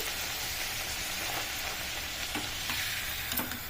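Puris sizzle and bubble in hot oil, a dense, continuous frying hiss close by with a few brief crackling pops toward the end and no one talking.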